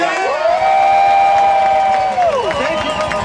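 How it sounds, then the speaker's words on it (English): A rally crowd at the Wisconsin State Capitol in May 2011 cheers loudly and steadily, with a long, high, rising-and-falling whoop or whistle carrying over the dense roar of many voices. "So let's give them a round of applause."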